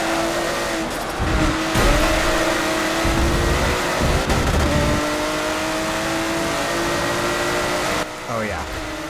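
Race car engine in the Forza 7 racing game, with a Porsche or Renault F1 car revving loudly and steadily, a pitch sweep near the end, and a voice talking over it now and then.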